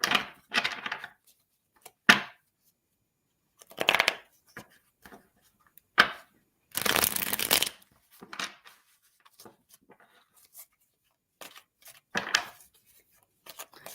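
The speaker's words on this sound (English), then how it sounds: "Let's just pull some cards for you, okay?" Tarot cards being shuffled by hand: intermittent bursts of riffling and sliding card noise with scattered small taps and clicks, separated by quiet pauses, close and alone.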